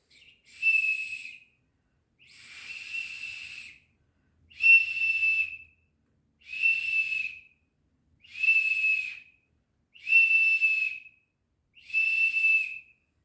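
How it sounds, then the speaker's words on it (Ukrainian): A small toy whistle is blown seven times in a row: bright, even, shrill blasts with short pauses between, close and clear with no talking. "А тепер я буду грати ось на такому свищику."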